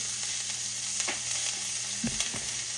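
Sautéing over quick, hot heat for an egg omelette, producing a steady, close sizzle with a few light scrapes and taps of a utensil in the pan.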